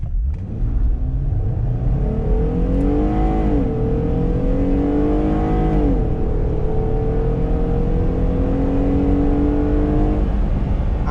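A 2020 Jeep Gladiator Rubicon pickup engine revs loudly and close in second gear, pitch climbing, dropping, then rising again in long pulls, with no talking.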